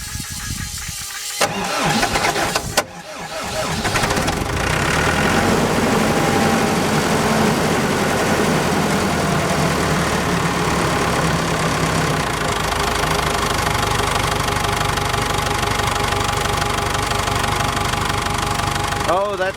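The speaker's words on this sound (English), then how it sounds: "let's try to get her going there and see if she'll idle for us" A diesel engine on an ASV PT-100 compact track loader cranks with a couple of stuttering attempts, catches and then settles into a loud, steady idle that runs on close by.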